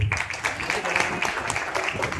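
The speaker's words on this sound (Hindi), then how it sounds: "मंडली यदि खुश है तो ताली बजाएंगे।" Wedding guests in Darjeeling break into sustained, dense applause, with many hands clapping close by and voices mixed into the crowd noise.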